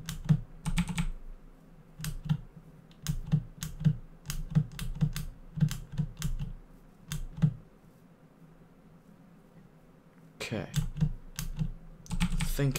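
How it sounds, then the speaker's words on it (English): Rapid clicking of a computer mouse during a Minecraft session, a string of close, sharp clicks in uneven bursts with a pause of a few seconds before the clicking picks up again. "Sorry about my mouse clicking."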